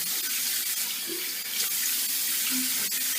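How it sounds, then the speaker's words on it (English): Cold water runs steadily from a bathroom tap during a wet shave rinse, a continuous close hiss and splash with faint gurgles, no voices. "Rinsing with hot. Now rinsing with cold"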